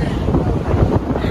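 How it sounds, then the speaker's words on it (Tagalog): Gusty wind buffets the microphone outdoors in San Fernando, La Union, a steady loud low roar with rising and falling gusts across the whole moment and no other clear sound. "Ang hangin."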